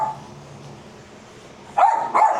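Terrier dogs bark at a FedEx delivery man at the door, two sharp barks coming in close together near the end after a quiet indoor stretch.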